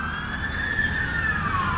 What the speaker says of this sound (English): Oh no, we've got an ambulance.